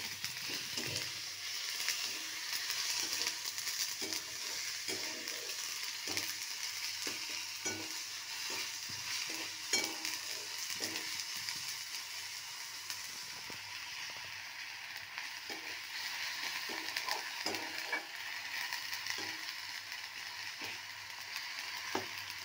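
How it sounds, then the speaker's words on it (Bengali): Chopped tomato frying in a pan for a boneless fish recipe, giving a steady, close hiss and sizzle with repeated stirring clicks throughout and no talking. "এবার আমি এই টমেটো কুচিটা আমি দিয়ে দেবো"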